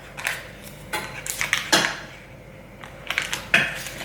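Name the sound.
butter spooned into a microwave-safe dish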